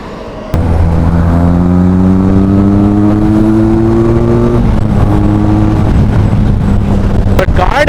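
A motorbike engine revs loud and close while being ridden, its pitch climbing steadily, then dropping and holding, with a sharp knock at the start and again near the end.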